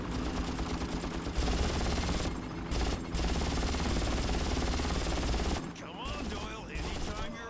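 Loud, dense bursts of rapid machine-gun fire in the game Far Cry Classic crackle almost continuously, with a brief lull near the end.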